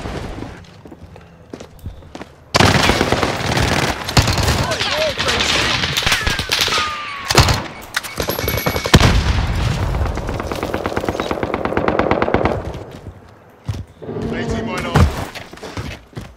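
Heavy gunfire erupts in Call of Duty: Warzone, with rapid automatic bursts and single shots crackling loudly for several seconds, alongside footsteps, brief shattering and voices talking, before the firing tapers into quieter scattered shots.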